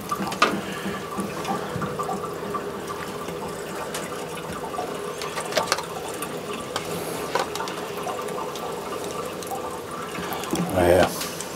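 Water pouring into a 1940s barn-find Chevy truck, a steady faint trickle and splash through most of the stretch, with a brief louder gurgle near the end.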